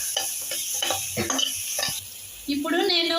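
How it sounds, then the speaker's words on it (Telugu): Chana masala is stirred in a pan after salt goes in, with a spoon scraping and clinking in irregular strokes over a soft sizzle, and a brief tonal sound near the end. "సాల్ట్ యాడ్ చేసుకొని బాగా మిక్స్ చేస్తా ఉన్నాను"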